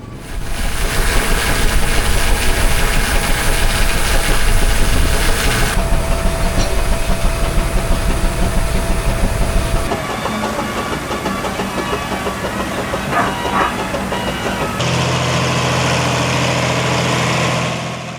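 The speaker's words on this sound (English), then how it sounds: "It's generating for some of the rides in the fairground." A steam fair engine at an outdoor fairground generates power for the rides, with a loud, continuous heavy mechanical drone and hum that shifts in character several times.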